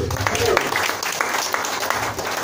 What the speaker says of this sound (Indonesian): Yang amin berikan tepuk tangan begitu